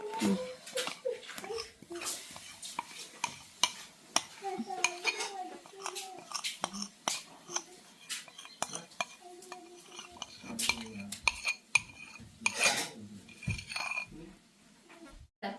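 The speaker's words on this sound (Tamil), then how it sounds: "நாங்கள் மெல்ட் பண்ணி வச்சதெல்லாம் கலந்துட்டேன்" Brownie batter with melted chocolate is stirred by hand in a bowl, with repeated soft scraping and clinking of a utensil against the bowl and faint talk in the background.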